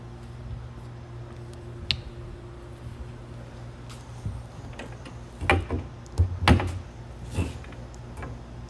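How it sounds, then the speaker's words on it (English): A 2022 Forest River No Boundaries NB19.1 travel trailer door is moved and shut, giving a few light clicks and creaks, then a cluster of sharp knocks and latching thuds near the end, close by over a low steady hum. "Go ahead, move the door up, shut it."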